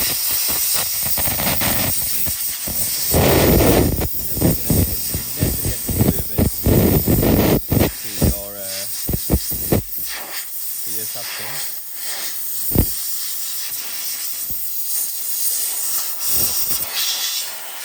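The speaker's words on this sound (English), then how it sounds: "I'm going to blow this out with the compressor, and you'll see the amount of dust." A compressor's air nozzle blasts dust out of a Dyson V15 cordless vacuum with a blocked, pulsing airway, giving loud hissing bursts in repeated spurts from different angles, with a steady background hiss between blasts.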